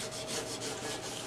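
A wooden hand plane is scrubbed with linseed oil and turpentine, a close, quiet rubbing with quick back-and-forth strokes over about a second.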